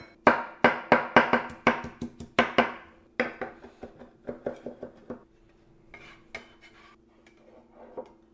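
Rough chopping of a bay leaf with a knife on a board, a rapid run of crisp, close taps that slows into lighter, scattered cuts.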